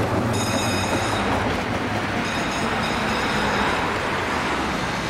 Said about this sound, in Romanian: ori sunt prea mici tramvaiele